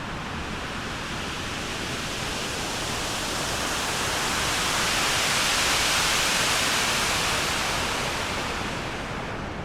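Synthesized ocean waves for relaxation sound design make a broad, steady wash of noise that slowly swells and eases back, loud and even with no other sounds.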